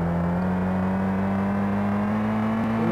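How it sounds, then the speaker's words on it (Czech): Strong-engined car in a rally racing video game, its engine droning at a steady high pitch with a slight rise toward the end, loud and continuous with no talk over it. "a zvuk motoru mám, to je divný, akorát si to je jako, bude to asi silný motor"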